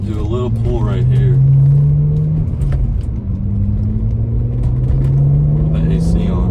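A 2007 BMW E93 335i with a VRSF intercooler accelerating hard, its engine note climbing steadily through a gear change, loud and close with a brief voice near the start.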